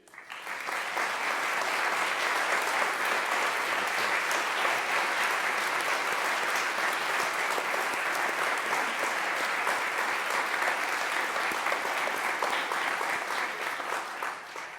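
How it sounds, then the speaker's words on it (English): A school gathering audience gives a sustained round of applause, even and continuous from start to finish, many hands clapping in a large room without speech. "take a special round of applause from us"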